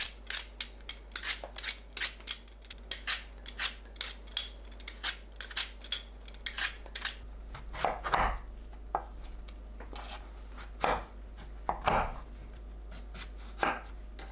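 A knife taps through persimmon onto a cutting board in a steady series of crisp cuts, a few strikes landing louder and heavier.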